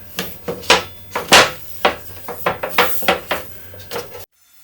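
Slots are being cut into a welded metal table frame, heard as a series of sharp, uneven metallic scrapes and clanks, about a dozen close strokes, ending abruptly in near silence.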